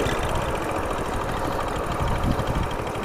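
A vehicle engine idles while being parked in a temple parking area: a steady, continuous rumbling drone at an even level throughout, fairly close, with no speech over it.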